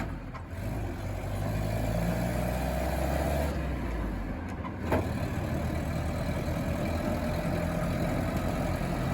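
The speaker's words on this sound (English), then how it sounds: "This thing's an absolute pleasure to drive. It's a sweet old 4-cylinder Jeep." Old Kaiser Jeep CJ5 with a four-cylinder engine drives along with a low, steady engine drone heard from inside, joined by faint rattles and one brief knock.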